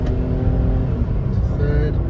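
An old automatic car accelerates hard in second gear, its engine note climbing steadily up close with a rough low rumble under the rising pitch, all in one continuous pull.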